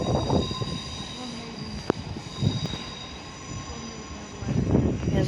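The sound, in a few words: Class 455 train departing London Waterloo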